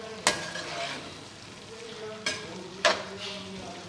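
Chicken and vegetable mixture with yogurt stirred in a pan, a soft sizzle under a few sharp scraping strokes of the spoon, close and unaccompanied by talk.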